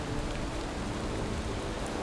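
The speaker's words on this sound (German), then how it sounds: "Und es regnet." Rain falls in the Valheim game world as a steady, even hiss of dense patter. It holds a constant level throughout, with no voices.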